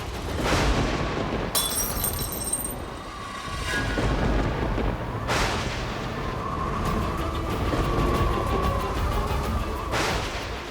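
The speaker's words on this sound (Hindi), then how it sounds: "घने काले बादल, ये तेज हवा, ये तूफान" A storm in a dramatic TV scene, with deep rumbling thunder rolling in several loud waves over a steady roar of strong wind and rain, swelling and easing across the stretch with no talk.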